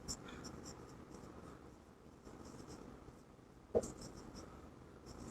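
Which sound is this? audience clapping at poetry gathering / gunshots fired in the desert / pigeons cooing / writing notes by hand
writing notes by hand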